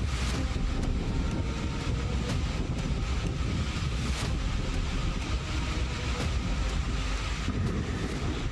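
Strong wind with heavy rain sweeps through a village in Sukolilo, Pati, Central Java, giving a steady, loud, broadband roar and buffeting against the microphone for the whole stretch, with no voices.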